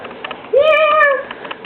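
Cat giving a single drawn-out meow, clear and close, rising then gently falling over about half a second above low room noise.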